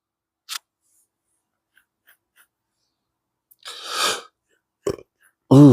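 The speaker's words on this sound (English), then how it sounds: "I know that burp was extra loud" A loud burp lands close to the microphone near the end, after a few soft clicks, a breathy rustle and a short vocal sound in an otherwise quiet room.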